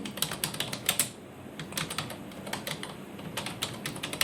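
Computer keyboard typing nearby, quick irregular bursts of key clicks with brief pauses, fairly soft and without speech.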